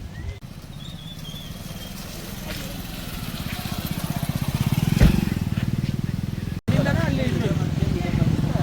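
A motorcycle engine drones steadily nearby, its putter swelling as it passes, with people talking over it.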